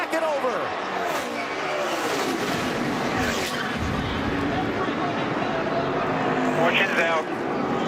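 NASCAR race cars roar and scrape through a crash as Tony Stewart's car is sent into the pack and over, with a continuous loud engine wash and an announcer talking over it.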